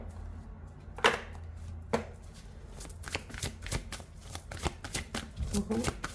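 Tarot cards are shuffled in short riffling bursts and sharp flicks, fairly close but soft, with gaps between handfuls and a faint murmuring voice underneath.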